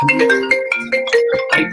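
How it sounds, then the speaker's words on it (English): A phone ringtone from an incoming call plays alone, a bright, melodic electronic tune of quick rising and falling notes repeating in short bursts. "I got a phone call."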